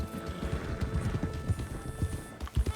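Horses' hooves clip-clop close by in Red Dead Redemption 2 as a herd is rounded up, an uneven run of hoofbeats with a few heavier thuds near the end and no voices.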